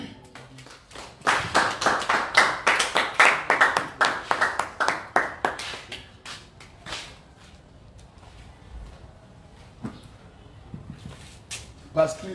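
Congregation at a French-language church service clapping in a fast, loud burst of rhythmic handclaps, fading to scattered claps and faint murmuring, with a few claps near the end.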